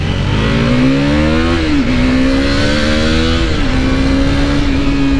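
A Benelli 600i motorcycle accelerates hard on an open road, its four-cylinder engine note climbing loudly through two gear shifts with brief dips between pulls, close and continuous.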